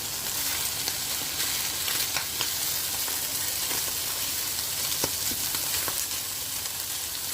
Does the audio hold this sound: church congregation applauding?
no